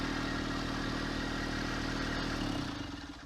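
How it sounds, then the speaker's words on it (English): Tractor engine idling steadily with a low, even rumble, then winding down and fading as it is switched off near the end. "now turn the tractor off"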